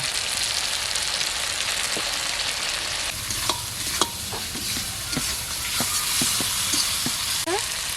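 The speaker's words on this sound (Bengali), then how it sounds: "এক চামচ জিরের গুঁড়ো দেব" A spoonful of cumin powder hits hot oil in a frying pan, giving a loud, continuous sizzle with repeated sharp scrapes and taps of a spoon stirring, close up and without speech.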